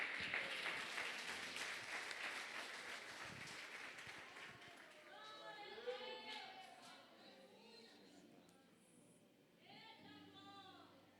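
A church congregation applauds during an evening service, the clapping loud at first and gradually fading as voices take over.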